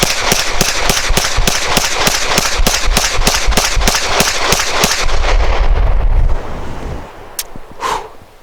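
Walther Q5 Match Steel Frame pistol emptying a full magazine plus one, a steady run of about twenty loud, evenly spaced shots outdoors, then the firing stops and a couple of faint clinks and wind follow.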